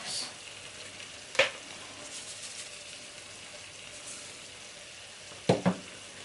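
A spoon stirs a cheese sauce for jerk chicken rasta pasta in a pot: a soft, low simmering hiss with two brief, sharp clinks of utensil on metal.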